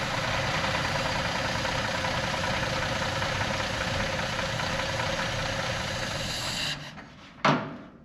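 An old 1955 Plymouth car engine idles with a steady rough chug and faint knocking, constant and close, then cuts off abruptly near the end with a brief clunk.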